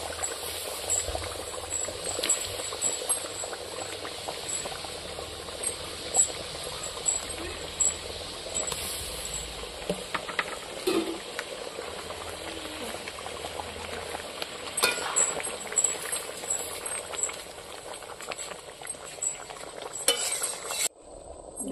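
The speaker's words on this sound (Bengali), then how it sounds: "ঝোলটা ফুটে গেছে, এখন আমি ডিমের পোস্টটা দিয়ে দেবো ঝোলের মধ্যে" Curry gravy simmers in a pot in a village kitchen as egg posto is stirred in, giving a soft steady bubbling with occasional clinks and scrapes, faint throughout.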